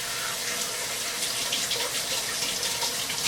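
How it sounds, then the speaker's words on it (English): Warm water runs steadily from a kitchen tap while pizza dough is being made, a continuous close hissing splash with no pauses and no speech. "a little warm water"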